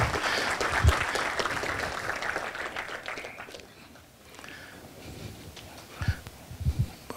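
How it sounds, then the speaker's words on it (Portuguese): Seminar audience applauds to welcome a speaker onto the stage, a steady spread of clapping that gradually thins and softens, then a few louder, closer claps and thumps near the end. "com uma grande salva de palmas, recebessem aqui no palco para conosco a nossa companheira Maria Lúcia Fattorelli"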